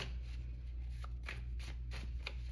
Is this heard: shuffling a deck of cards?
yes